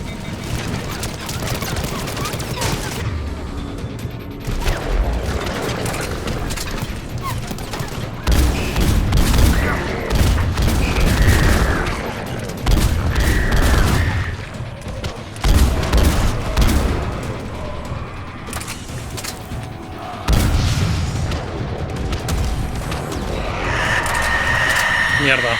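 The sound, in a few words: gunfire in the video game Mass Effect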